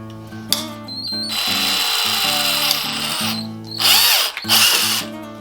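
A power drill bores a hole through thin plastic, its motor whining at high speed in several bursts separated by brief pauses and pitch shifts as it bites in, loud and close with no talk.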